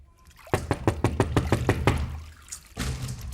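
Knocking on a door in a Bollywood scary comedy film: about nine quick, sharp raps in a steady burst, followed by a brief lull and then a rush of broadband noise.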